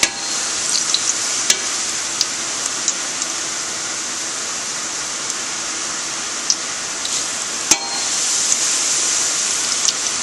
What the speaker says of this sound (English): they start frying immediately